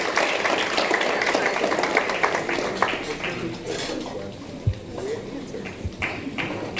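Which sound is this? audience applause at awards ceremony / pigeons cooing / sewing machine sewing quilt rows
audience applause at awards ceremony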